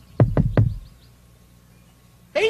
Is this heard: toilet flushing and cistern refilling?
no